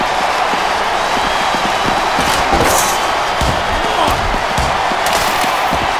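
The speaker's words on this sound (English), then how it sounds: "this capacity crowd is making their opinions known tonight" A capacity crowd in a wrestling arena roars throughout a live match, a loud, continuous wall of cheering and shouting with thuds and impacts from the ring cutting through the steady din.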